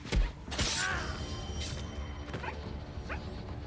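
Dog barking in the video game Assassin's Creed Shadows: a few sharp yips and barks spread over a few seconds, with thuds and background game noise.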